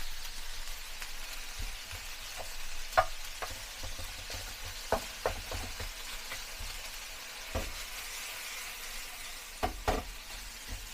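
Pork belly stir-frying in a hot wok gives a steady, close sizzle, broken by occasional sharp clacks of a spatula striking the pan, with no voices.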